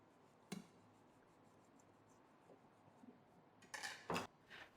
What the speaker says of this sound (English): We're going to slit the fish on both sides with a knife.